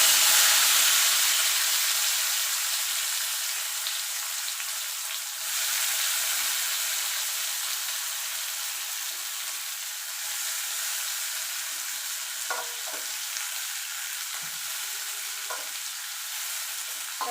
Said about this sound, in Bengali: এবার উচ্ছেটাকে আমি ভালো করে ভেজে নেব।